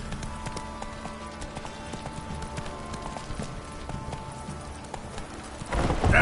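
Horse hooves clip-clop steadily at a gallop in The Witcher 3 video game, a continuous rhythmic beat with a louder rush of sound near the end.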